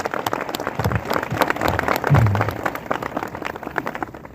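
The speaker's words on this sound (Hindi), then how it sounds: "आइए हम अपने अगुओं का प्रभु यीशु मसीह के नाम में स्वागत करें तालियों के साथ।" Church congregation at a spiritual revival gathering clapping loudly to welcome its leaders, a dense burst of hand claps from a close crowd with a brief louder swell midway.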